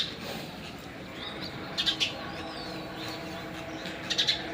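A sparrow gives two quick bursts of faint, high chirps, each a short cluster of three or so notes, over a soft, steady outdoor background on a farm in Gujarat.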